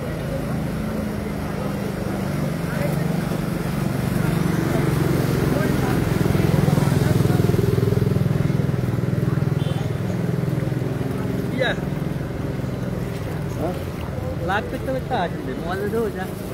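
A motorcycle engine drones steadily while the bike pushes through floodwater in a market, a low continuous rumble with water churning, and a few faint sharp sounds near the end.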